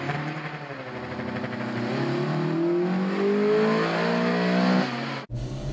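A 20-year-old Honda CR-X races a Honda CR-Z in an exhibition match, engines revving hard and climbing through the gears in a loud, close, sustained drone that cuts off abruptly at the end.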